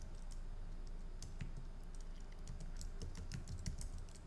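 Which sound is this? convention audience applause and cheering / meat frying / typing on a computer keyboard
typing on a computer keyboard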